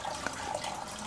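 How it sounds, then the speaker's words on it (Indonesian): Water pours out of a circulation outlet into a backyard fish pond beside cages for breeding magpie robins, a steady close splashing trickle that runs without a break and with no voices. "airnya keluar ke kolam."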